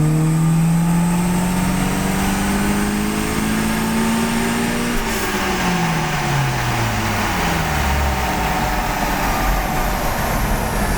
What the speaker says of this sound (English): So now we can clearly hear that the response of the turbocharger has changed and it ramps up a lot quicker.